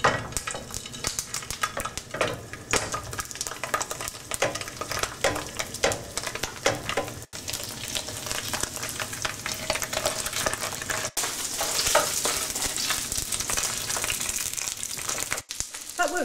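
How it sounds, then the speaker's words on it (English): Sausages browning in vegetable cooking oil, a loud sustained sizzle with crackling spatter and occasional utensil clinks and stirring, close and constant. "We're going to start off by browning the sausages."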